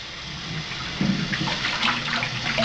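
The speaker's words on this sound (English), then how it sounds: "now after that, turn back on the hot water." Hot water runs from a tap into a snake enclosure tank during a rinse after cleaning: a steady mid-level rush and splash of flowing water that grows a little louder partway through, with no talking.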